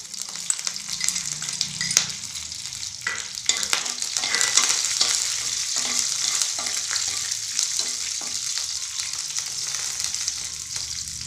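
Curry leaves and green chillies hitting hot oil for a moong dal sambar, producing a bright, sustained crackling sizzle with scattered stirring knocks and no speech.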